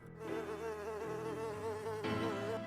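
Gradfly, the fly Pokémon from the video game Pokémon Teal, lets out its cry: a steady, close electronic buzz like a droning housefly, lasting a couple of seconds without a break.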